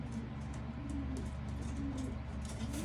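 Pigeons or doves coo in soft, low repeated phrases close by, several overlapping calls rolling on continuously with no talking.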